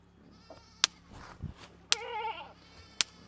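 A goat lets out one clear quavering bleat between sharp loud snapping pops, close by, with faint low thumps underneath and no talking.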